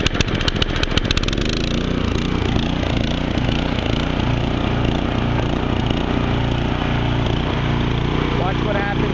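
A Craftsman 208cc front tine tiller engine running steadily at close range, a loud continuous rumble that opens with a few sharp sputters and then holds an even drone.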